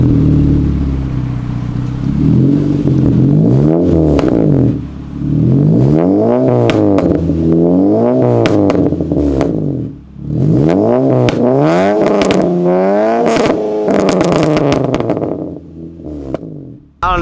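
A pop-tuned 9th-generation Honda Civic Si revs hard in repeated bursts, its exhaust crackling and popping sharply between pulls, loud and close.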